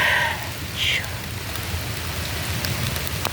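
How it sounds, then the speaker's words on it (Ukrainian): Rain from a thunderstorm falls in a steady, close hiss and patter. A couple of brief high chirps sound near the start, and no thunder is clearly audible. "Щедрий дощик і гроза."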